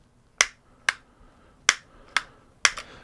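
Five sharp, snappy clicks from the over-tightened steering of an Emax Interceptor FPV radio transmitter, each one a dry mechanical snap, spaced unevenly and heard close up and alone.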